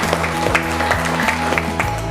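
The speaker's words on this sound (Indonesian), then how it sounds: "Ya, baik, tepuk tangan dulu." Students in a classroom give a short round of clapping over a repetitive musical backing, brief rhythmic claps audible throughout the music.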